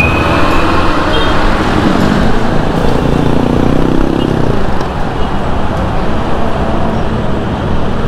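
Steady, loud road traffic on Commonwealth Avenue, with a continuous roar of cars, buses and trucks passing close by and no breaks.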